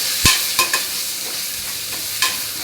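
Tomatoes and onions fry with turmeric and sambar powder as a spoon stirs them in the pan, giving a steady sizzle broken by sharp scraping clacks, close and with no talking.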